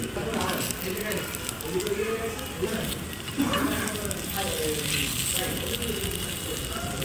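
Chicken sizzles on a hot plate in a busy eatery in Barguna, a continuous loud hiss and crackle that runs throughout with crowd noise around it.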